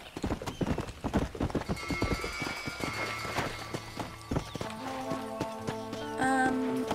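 Horse hooves clip-clopping at a gallop in the Red Dead Redemption video game, rapid rhythmic hoofbeats with a whinny, then a sustained musical score rising beneath and taking over toward the end.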